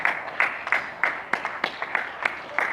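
Outdoor clapping during the UK lockdown: sharp claps fall in a steady, quick rhythm at a moderate distance, with no clear cheering over them.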